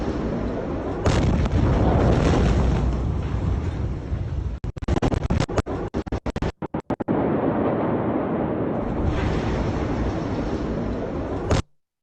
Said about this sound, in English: So this explosion here that took place on these docks.